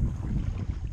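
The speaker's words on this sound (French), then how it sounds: "ça tire le bateau en marche arrière." A boat on the Normandy coast runs in reverse, giving a steady low rumble mixed with wind buffeting the microphone, loud and close throughout with no speech.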